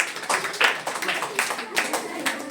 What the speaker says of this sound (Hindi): बहुत बड़े, जोरदार ताली के लिए।